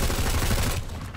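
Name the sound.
gunfire from a MAX weapon in the video game Planetside 2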